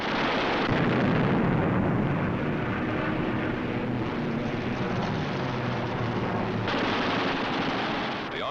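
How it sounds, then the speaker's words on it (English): Eight machine guns on a 1944 US fighter plane fire in a continuous rattling burst over the roar of the aircraft, dense and loud throughout, with a slight change in tone near the end. "With the touch of the finger on the stick, a camera and 8 machine guns are put into action."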